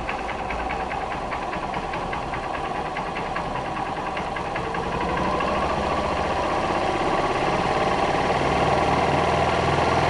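A Honda CG 125 Fan motorcycle engine with an electrical charging fault revs steadily above 3,000 RPM, a continuous close mechanical drone that grows slightly louder partway through, with no talking.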